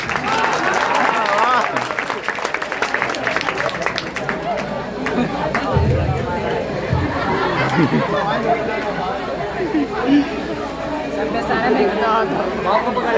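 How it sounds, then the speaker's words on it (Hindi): Audience clapping at a Teacher's Day function held by a competitive coaching class in Ismailpur, loud scattered applause mixed with lively crowd chatter and voices throughout. "ताली बजाइए आप लोग"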